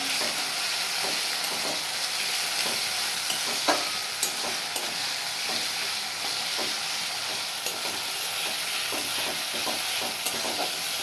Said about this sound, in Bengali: আমি ভাজা ভাজা করছি দেখতে পাচ্ছ